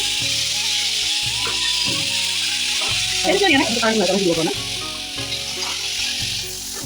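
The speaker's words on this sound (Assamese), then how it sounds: "এই মাছকেইটা মই এতিয়া ইয়াতে পেলাই দিম।" Dried fish dropped into a hot pan for a chutney, sizzling steadily and loudly up close, with a brief burst of louder frying midway as the fish hits the oil.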